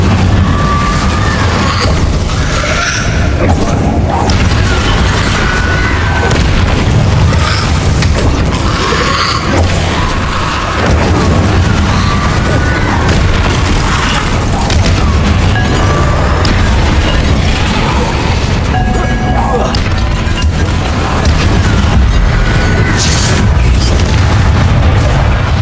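Loud, continuous magical combat in Hogwarts Legacy, with Incendio fire spells going off in heavy booming blasts and crackling bursts layered over a dense rumbling background.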